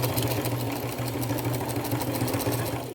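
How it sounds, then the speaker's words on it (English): A sewing machine hums steadily at close range, straight-stitching small butterflies onto an upcycled boho top in one continuous run that stops abruptly at the end. "I'm going to use my straight stitch instead of a zigzag and just get those sewn on"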